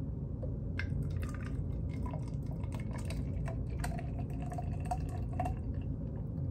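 Liquid pours and trickles steadily from a blender into a bottle, puppy weaning formula, with small drips and splashes over a low background hum.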